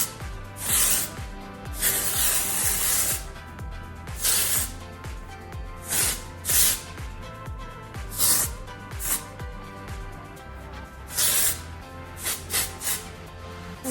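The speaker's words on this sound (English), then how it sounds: "you're gonna get your texturizing spray from Oribe" Short repeated hisses of Oribe texturizing spray misted onto hair, about eight or nine bursts spread unevenly, some in quick pairs, each loud and close over steady background music.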